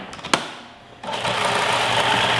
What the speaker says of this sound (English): I really try to puree it the least amount as possible.